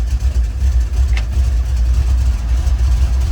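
A 1953 Chevrolet 3100 half-ton pickup engine idling with the choke out on a cold day, a loud, close, steady low rumble with a slightly uneven throb.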